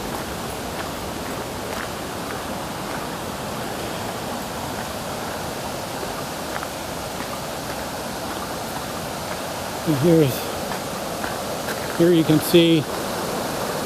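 Creek water rushing downstream beneath a bridge, a steady broadband wash of flowing water throughout, with someone speaking briefly over it near the end.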